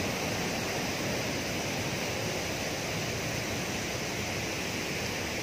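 The Curug Parigi waterfall, fed by the Cilengsi river running high with heavy flow, roars as a dense, steady broadband rush, close and continuous with no voices.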